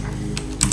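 Typing on a computer keyboard: a few quick, close key clicks in a short burst over faint room hum.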